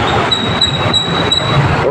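A metro train at Jubilee Hills Road No. 5 station in Krishna Nagar runs loud and close, a steady rolling roar of wheels on rail with a thin high squeal running throughout.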